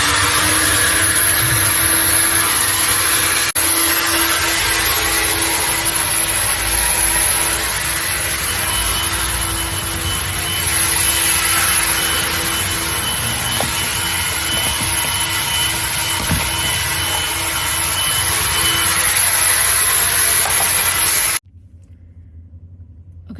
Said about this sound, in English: So I'm just going to vacuum a little bit just to demonstrate.